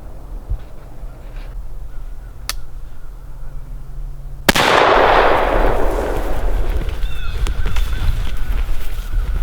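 A single loud gunshot from a gun loaded with a big shell cracks out near the middle, followed by a long rumbling outdoor echo and wind noise in a wilderness setting.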